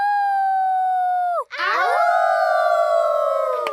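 Several cartoon children's voices imitate a wolf howl, first one long rising-falling note, then a chorus of overlapping howls held for several seconds.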